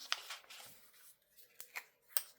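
Scissors trimming paper for a craft project at a desk: a few soft, quiet snips and crisp clicks scattered over a couple of seconds, close by with no talking.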